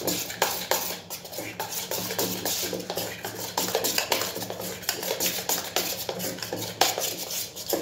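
Colored cake batter mixed with a spoon in a bowl, rapid rhythmic scraping and clinking strokes repeating steadily and close, with no talking.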